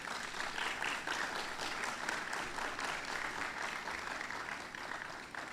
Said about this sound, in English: Gentlemen, give your family a round of applause.